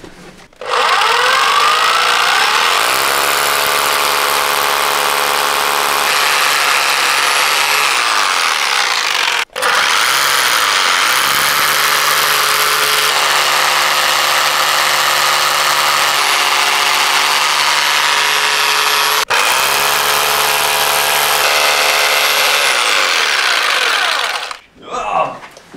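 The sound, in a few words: drilling holes for joist hangers in floor beams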